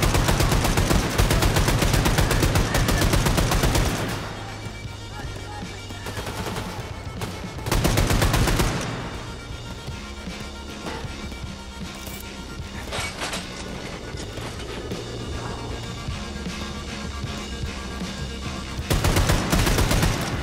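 Gunfire in Wolfenstein II: The New Colossus, loud rapid bursts of automatic shooting in heavy clusters, with quieter stretches of scattered shots and combat noise between.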